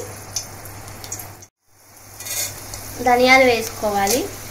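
Coriander seeds dropped into a pan of lightly heated oil for roasting, a soft crackling sizzle with scraping and stirring. A short silent gap comes early, then a voice speaks over the pan.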